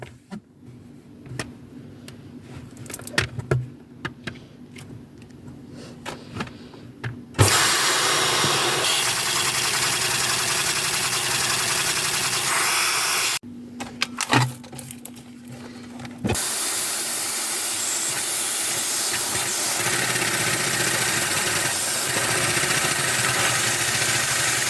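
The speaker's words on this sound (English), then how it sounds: "Let me grab my vacuum cleaner." A vacuum cleaner powers a LEGO vacuum engine, starting with small clicks and knocks before switching on into a loud, steady rushing whine, then cutting off briefly and roaring back for a long continuous run.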